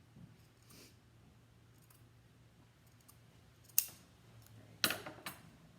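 Good fabric scissors snip through knitted fabric just past the ribbing, giving a few crisp, close clicks near the end after a quiet stretch with a faint low hum.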